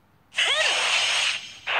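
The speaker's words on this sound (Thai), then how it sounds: "นี่คือปืนฉีดน้ำนะโว้ย" In Symphogear XD Unlimited, a high-pressure water gun lets out a bright, hissing spray burst lasting about a second, dipping briefly before a second short gush, with no talking.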